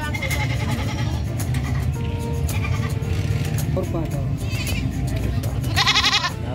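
Goats bleat repeatedly at the San Carlos livestock market, several calls cutting through a busy crowd with people talking throughout, one louder, higher bleat standing out near the end.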